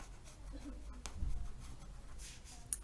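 A pen or pencil writing by hand on paper, a faint, close scratching with soft strokes and pauses in a quiet room.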